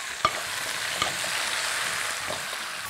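Chopped vegetables are stirred into tamarind broth for dosakaya pappu charu. A close, steady bubbling hiss carries a couple of sharp spoon clinks against the pot.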